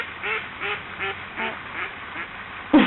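Ducks on a lake give a regular series of about seven short, nasal quacks spaced roughly half a second apart, moderately close, followed by a sharper louder call at the very end.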